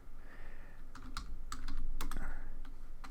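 Fast, uneven clatter of keys on a computer keyboard while a SQL WHERE query is entered in a Python and SQLite tutorial, the crisp keystrokes close and clear over a low background hum.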